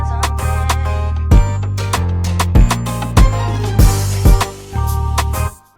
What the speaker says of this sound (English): Last but not least, we got a drum fill just to give it some more transition in the beat.